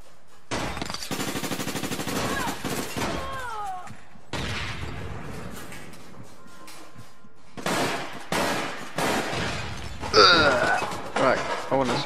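Gunfire in the APB Reloaded video game, rapid automatic bursts and single shots in clusters with short gaps, loud and close, with other game effects mixed in.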